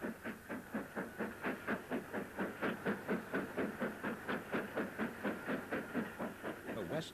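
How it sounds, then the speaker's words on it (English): LMS Ivatt Mogul steam locomotive 46406, built in 1946, easing along near Victoria Station in Manchester, its exhaust beating in a fast, even rhythm of chuffs with hissing steam, heard at moderate distance. "Ivatt Mogul 46406, LMS built in December 1946, eases up to the banking siding."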